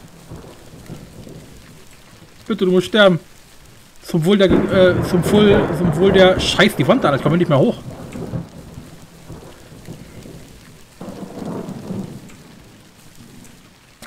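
Rain and rolling thunder in a Minetest MineClone5 game world, a steady storm wash running throughout under loud, excited talking, with a louder burst in the middle.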